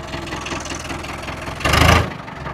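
A tractor engine runs steadily with a low, chugging drone. It swells into a brief, louder rev before settling back, and no one speaks.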